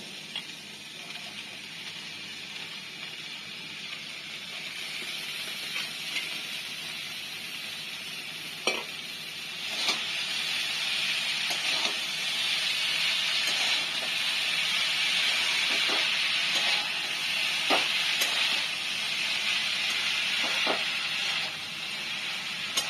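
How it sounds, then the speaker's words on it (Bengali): Chopped banana flower sizzles steadily in a frying pan with oil and spices, a constant close hiss punctuated by occasional sharp clicks and stirring scrapes, no talk. "এবারে মোচাটাকে দিয়ে দেবো"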